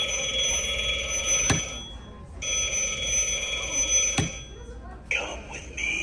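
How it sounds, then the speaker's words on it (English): A vintage-style Halloween animatronic telephone rings in a store aisle with loud electronic bell trills in two long bursts, each about two seconds, separated by a short pause, with a sharper click or jolt inside each burst and faint shop noise between. "And here's a vintage phone."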